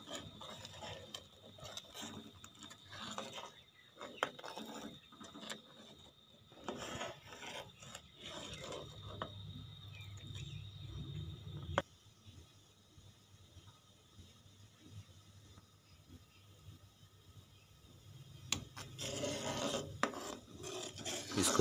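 Walnut halwa mixed with sugar in a pan, a spoon rasping and scraping against the metal in repeated strokes with grainy rubbing in between, close and fairly quiet, no talking.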